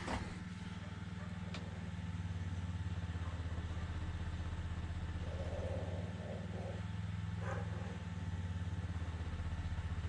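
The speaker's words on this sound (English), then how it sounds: "hopefully you can hear that tempo of the motor out there" An automobile alternator being driven by a motor to charge off-grid batteries, a steady low engine-like drone with a dip in tempo as the motor bogs down under load, continuous throughout.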